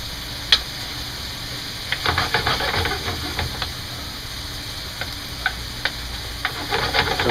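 Chicken legs sauté in a pan with a soft, constant sizzle, broken by scattered clicks and scraping stirs at a moderate distance, with no talk.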